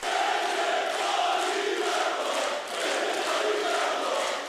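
A large crowd at a party rally roars and chants in unison, a loud continuous mass of voices swelling and dipping briefly, with applause blended into the rhythmic shouting.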